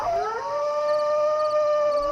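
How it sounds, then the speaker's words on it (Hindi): A jackal howls at night, a single long rising then level wavering cry close and clear, alone against faint background hiss in a Hindi animated horror story. "लगता है ये सियार की आवाज है।"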